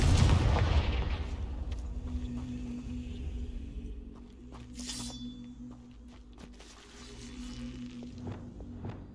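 Confringo spell explosion in Hogwarts Legacy, a loud booming blast at the start that rolls into a fading rumble, followed by scattered crackles and small impact sounds.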